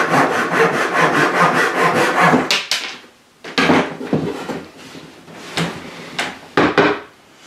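A hand saw cuts through bamboo for a jinashi shakuhachi flute, giving loud rhythmic rasping strokes that run continuously, then break into shorter, separated pulls near the end, with no talking.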